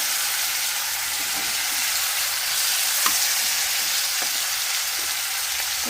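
Crab frying in a pan of spiced oil gives a steady, even sizzle and hiss throughout, with a few faint stirring clicks and scrapes and no voices.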